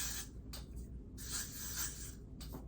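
Aerosol spray hissing along the edges of a bald cap, in several bursts separated by brief pauses, close and fairly steady, with no talking.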